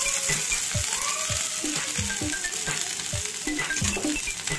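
Paneer chowmein noodles with vegetables stir-fried in a pan, steady sizzling hiss with repeated scraping and stirring clicks close up throughout.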